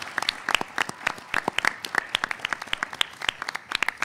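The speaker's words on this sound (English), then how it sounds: "Let's give our teams another big round of applause." Studio audience at a Texas middle school quiz show semifinal claps in a brisk round of applause, many sharp close hand claps overlapping steadily throughout.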